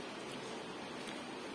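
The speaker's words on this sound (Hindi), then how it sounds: "लग रही है बारिश" Rain falls steadily, a dense, even hiss of drops with no pauses or voices.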